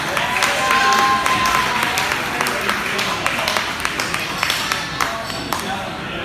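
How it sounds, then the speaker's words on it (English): Applause from a comedy club audience fills the room, loud at first and then thinning into scattered claps and a few cheers over several seconds. "Can we get another round of applause for our gracious host here?"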